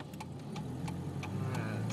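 A cold 1982 BMW 325 engine idles steadily up close, a low continuous hum with faint ticking on top and no talk.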